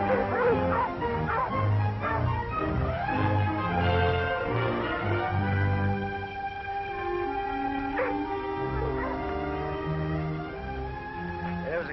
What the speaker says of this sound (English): those dogs won't do much good